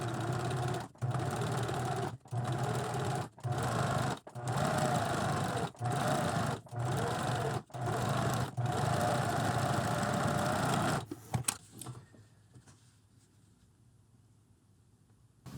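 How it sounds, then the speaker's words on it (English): A sewing machine stitches two layers of fabric slowly around a curve, running in repeated short bursts separated by brief pauses, then stops, leaving quiet faint handling sounds. "I'm just going to sew very, very slowly around this curve."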